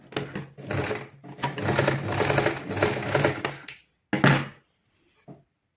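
A sewing machine joins the cross pieces of a children's garment in several loud, close bursts of rapid stitching separated by short pauses, ending with a final quick run and a soft knock.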